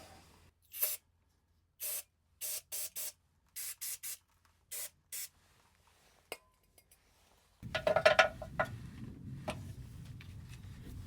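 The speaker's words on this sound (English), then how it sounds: "I will give it a bit of a brake cleaner first so that there's no residues as far as possible." Brake cleaner from an aerosol can is sprayed near the drain plug of a four-wheel-drive Dacia Duster 1.6 petrol in a series of short, sharp hissing bursts, followed by a busier stretch of metallic clinks and clatter.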